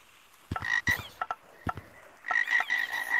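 Frog croaks in Gorilla Tag VR: a few short, throaty bursts with brief pauses between them, followed by a longer run of rapid croaking.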